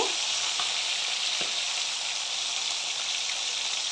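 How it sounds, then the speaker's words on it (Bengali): Hilsa fish heads fry crisp in hot oil in a pan, giving a continuous close sizzle with a few faint pops and no talking. "মাছের মাথাগুলো ভালো করে কড়কড়া করে ভেজে দিব"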